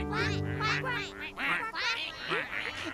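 A voice imitates ducks with a run of nasal, rhythmic quacks, close and fairly loud, in several quick bursts, in a Thai-dubbed cartoon episode.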